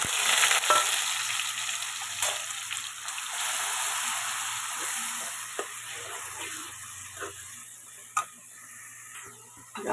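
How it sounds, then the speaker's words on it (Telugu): Onion paste hits hot oil in a pan for egg curry, with a loud sizzle at first that gradually settles into a softer, steady frying hiss and occasional ticks. "నూనె అయితే వీట్ అయింది. ఇప్పుడు ఇక ఉల్లిగడ్డది పేస్ట్ వేస్తున్నాం."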